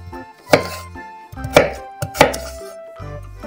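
A knife chops radishes on a board for fattoush salad, giving three loud, close, separate thuds with short gaps between them.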